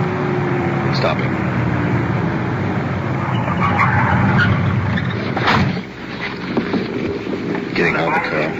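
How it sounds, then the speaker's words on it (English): A police car pulls up in a 1950s radio drama: a loud, steady engine and road rumble builds, then a brief rough tire skid cuts out to a quieter idle with faint background sounds. "We're stopping the car now."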